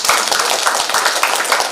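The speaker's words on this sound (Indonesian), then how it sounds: "Tepuk tangan dong." A small seminar audience in a Surabaya hotel claps steadily and loudly for a couple of seconds, close by, with no talking.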